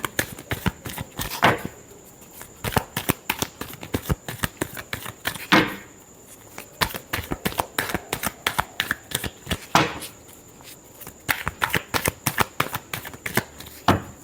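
Tarot cards riffle and slap together in rapid bursts, close and crisp, with brief pauses between rounds of shuffling and no talking.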